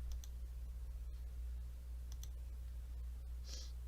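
A few soft, isolated computer mouse clicks sound close by in a quiet room, spaced apart with a faint background hum.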